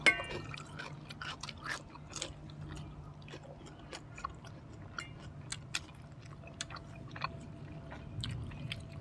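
Close, quiet chewing and wet squishy bites of fried sausage with dipping sauce, irregular crunchy clicks and smacks repeating throughout against a soft background hum.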